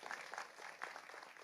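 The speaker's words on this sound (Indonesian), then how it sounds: "Lah tepuk sing banter gak sungkan-sungkan." Audience at an Indonesian religious lecture on a city anniversary clapping on request, a faint, distant patter of scattered hand claps lasting briefly.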